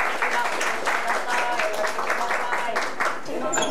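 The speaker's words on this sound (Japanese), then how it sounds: "拍手でお願いします。" Steady applause from a gathered audience at a Pride event in Kanazawa, a dense continuous clapping wash at moderate level with some voices mixed in throughout.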